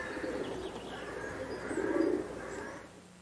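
Pigeons coo and murmur high in the roof of a Norman stone tithe barn, a soft continuous cooing with a louder swell in the middle, mixed with faint chirps and no talking.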